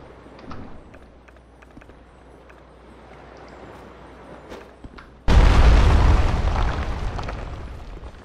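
In Dark Souls 2, a wall is blasted apart by a sudden heavy explosion after a quiet stretch of faint footsteps, the deep boom and rumbling debris fading slowly over several seconds.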